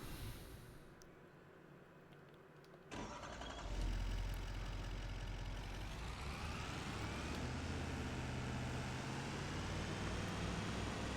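Semi-truck and small farm truck engines in Farming Simulator 25 crank and fire up, settling into a loud, steady diesel idle that builds and rises in pitch; no talking.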